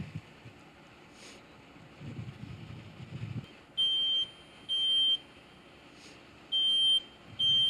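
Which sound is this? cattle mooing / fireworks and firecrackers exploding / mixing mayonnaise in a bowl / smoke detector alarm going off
smoke detector alarm going off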